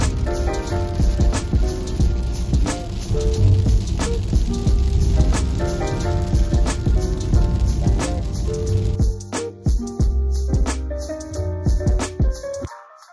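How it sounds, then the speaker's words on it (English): Hail about the size of airsoft BBs falls in the cold, sharp scattered ticks and clicks pattering continuously against a surface over a dense rumbling background, thinning out toward the end. "it is now hailing about the size of airsoft BBs"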